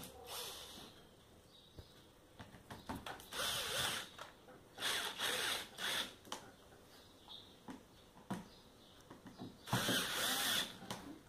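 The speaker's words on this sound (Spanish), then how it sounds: "Colocamos los tornillos de la bisagra superior." Screws driven with a power drill into the upper hinge of a refrigerator door, several bursts of whirring with short pauses between them, fairly close and loud, no talking.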